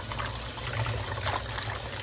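Tap water running steadily from a kitchen faucet while beans for pupusas are washed, a continuous close trickle and splash at moderate level with no talk.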